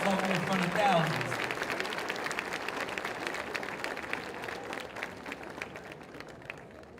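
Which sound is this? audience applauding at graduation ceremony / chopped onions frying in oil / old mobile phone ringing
audience applauding at graduation ceremony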